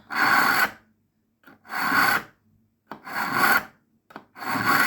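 Knife drawn through a knife sharpener in four long rasping strokes with short pauses between, close and loud with no talking.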